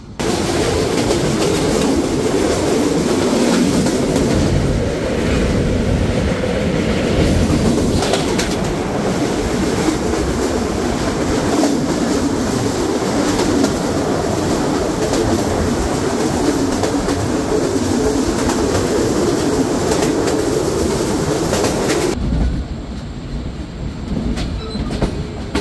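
Padma Express pulling out of Rajshahi railway station, a steady loud rumble of wheels and carriages throughout with faint bird calls, the roar easing slightly near the end.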